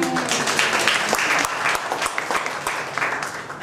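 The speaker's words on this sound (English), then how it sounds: "Let's give her a round of applause again." An audience claps steadily and loudly for several seconds at a library reading room dedication, a dense roomful of applause with no voices on top.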